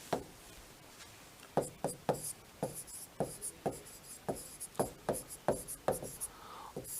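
Someone writes a definition by hand, likely chalk or pen on a board, with a quiet start followed by a run of short, sharp scratching strokes and taps in an irregular rhythm, close and alone.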